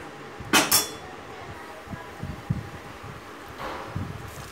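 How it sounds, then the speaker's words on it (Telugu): A utensil scrapes and clinks against a cooking pot of urad dal rasam with tomatoes, a couple of sharp metallic taps followed by softer, scattered stirring noises at close range. "ఇదంతా ఒకసారి ఇలా కలుపుకోవాలి."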